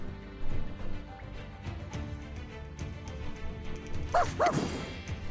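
A puppy lets out two quick, high yips near the end, over a busy background of soft thumps and room noise.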